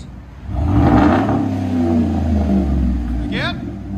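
A 2011 Chevy Suburban Z71 with a 5.3L V8 and straight-pipe exhaust, muffler resonator removed, revs up into a loud, deep, sustained roar up close, with a brief high chirp near the end.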